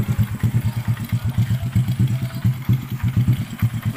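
A Honda Revo Absolute motorcycle engine idling when cold, a close, low, rhythmic chugging with evenly spaced pulses and a faint light knocking mixed into the beat.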